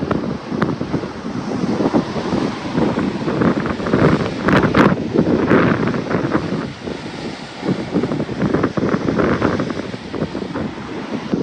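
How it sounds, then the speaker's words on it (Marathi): Huge sea waves crashing against a rocky Konkan shore, a continuous loud roaring surge with heavy wind buffeting the microphone, near and without talk. "एकदम प्रचंड लाट हो"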